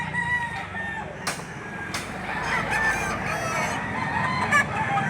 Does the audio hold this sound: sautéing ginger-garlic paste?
no